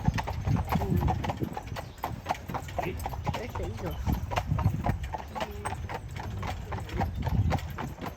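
Horse hooves clip-clop steadily at a brisk, regular rhythm as a horse pulls a tour carriage along a residential street on Mackinac Island, with the carriage rattling along and people talking throughout.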